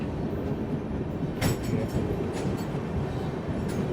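At Dhanbad Junction railway station a passing train rumbles on steadily, its rhythmic clickety-clack of wheels on rail joints broken by a few sharp metallic clanks, heard from close by and loud throughout.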